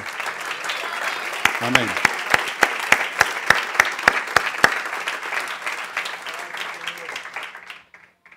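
A church congregation applauds the Lord in a sustained wash of clapping, with a single pair of hands striking sharp, regular claps near the front for a few seconds before everything fades out; a voice speaks briefly early on.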